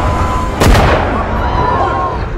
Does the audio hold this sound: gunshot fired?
yes